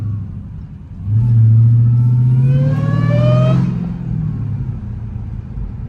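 A 1000hp Dodge Demon Charger with no hood revs hard, its engine surging into a loud low growl with a rising supercharger whine layered above, then easing back to a rumbling idle.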